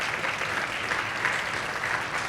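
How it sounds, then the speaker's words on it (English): Audience applause at an achievement awards gala: dense, steady clapping from a seated crowd, sustained evenly throughout without any voices on top. "Let's stand up and give this man an applause"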